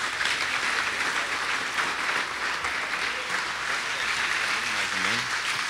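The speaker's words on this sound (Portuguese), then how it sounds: "Você pode aplaudir Jesus bem forte?" A church congregation at a Portuguese-language sermon applauds strongly, a continuous wash of clapping at moderate level with faint voices and murmurs underneath toward the end.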